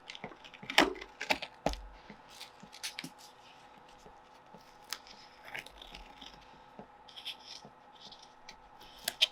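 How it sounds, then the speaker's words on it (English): Masking tape peeling off gouache paintings on paper, a few sharp tearing rips near the start followed by sparse, faint scratchy pulls and small taps in a quiet room. "do a little tape peel so we can see these at least"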